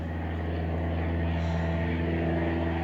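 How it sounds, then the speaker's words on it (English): An airplane passes overhead during an outdoor yoga session, its steady, loud, low engine drone holding constant throughout with no talking. "I told you you'd hear an airplane."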